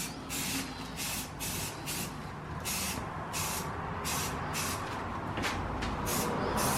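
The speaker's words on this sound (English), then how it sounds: "And we're gonna start spraying the primer, which Austin's already doing." Bursts of spray paint hiss in short, regular pulses, one after another, close by, over a low background rumble, as primer is sprayed onto car wheels for an Evo.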